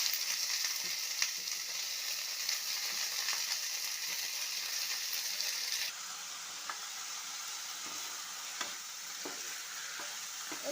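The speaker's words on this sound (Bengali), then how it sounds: "প্রথমে একটু তেলে দিয়ে নেড়ে নিলাম।" Helencha greens frying in oil as they are stirred, a constant hiss of sizzling with scattered scrapes and taps of the spoon, the hiss easing midway, close and alone.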